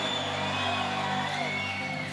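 A church congregation shouts and cheers together in a loud, sustained roar of many voices, filling the room continuously for a couple of seconds.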